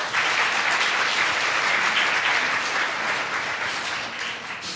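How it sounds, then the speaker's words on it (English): Sustained audience applause at a lecture evening, a thick, even roar of many hands clapping that stays loud throughout and fades slightly toward the end, with no voices over it. "A round of applause for Sean."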